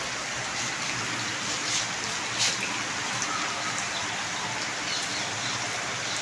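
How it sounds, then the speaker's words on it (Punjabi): Rain falls steadily in rural Punjab, a constant even hiss with occasional louder drops and no talking. "ਆ ਦੇਖੋ ਮੀਂਹ ਦਾ ਤੁਹਾਨੂੰ ਖੜਕਾ ਸੁਣਦਾ ਹੋਊਗਾ"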